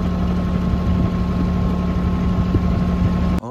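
A truck engine idles steadily by a roadside while branches are cut and loaded. It gives a loud, even, low drone that stops abruptly at the end.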